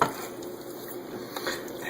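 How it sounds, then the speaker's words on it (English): A spoon scoops sausage and rice filling and scrapes it into peppers, giving a couple of soft, close scraping and stirring sounds over a faint background. "we're going to go ahead and start spooning this into our peppers here"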